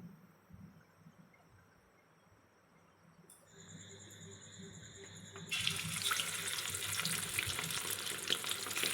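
Oil heating in a wok used earlier for frying potatoes: quiet kitchen noise, then a brief tonal whine, then a loud, broad sizzle that starts abruptly partway through and carries on steadily to the end, with no talking.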